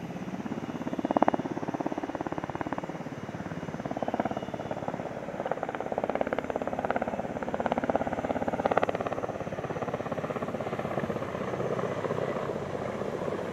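A Ka-52 attack helicopter at the Dubai Airshow, a steady rotor and engine drone held at moderate loudness throughout, with a few brief swells and pulses in the rumble.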